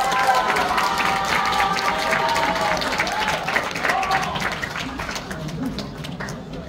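Audience applause welcomes a nanta drumming team at a 2024 Paju community program performance: sustained crowd clapping with some cheering, fairly loud and continuous, mixed with faint voices, fading a little toward the end.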